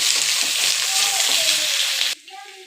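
Onions frying in a pan of hot oil already seasoned with mustard seeds, garlic and curry leaves, giving a loud, steady, close-up sizzle that drops off abruptly near the end.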